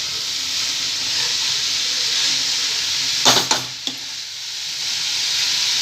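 A flat spoon stirs karela (bitter gourd) pickle, giving a steady soft hiss with a brief cluster of scraping strokes a little past the middle, close and moderately loud.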